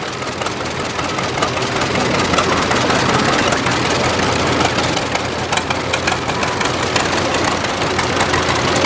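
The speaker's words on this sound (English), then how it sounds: "1936 John Deere B." A 1936 John Deere B tractor engine running in a tractor parade, a loud, steady, knocking engine drone that fills the whole stretch without a break and with no talk over it.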